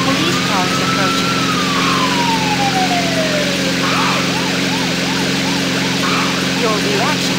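A police car siren in the Thrill Drive 2 driving game sounds loud, first as a long falling wail and then as rapid repeating yelps, over a constant engine drone.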